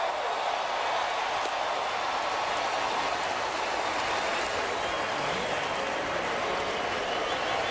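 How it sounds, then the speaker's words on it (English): A baseball crowd applauds and cheers steadily for a curtain call during a game, a dense, continuous roar of clapping filling the stadium without letup. "The crowd wants and gets a curtain call."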